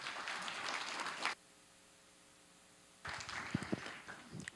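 Audience applause at a Korean disability employment consulting results-sharing conference: a wash of clapping that cuts off abruptly into near silence, then resumes with louder, closer individual claps.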